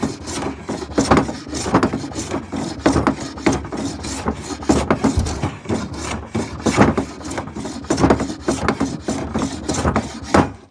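Wood is rasped off the edge of an old dovetailed desk drawer with quick, rhythmic back-and-forth scraping strokes, close and steady throughout with no talk.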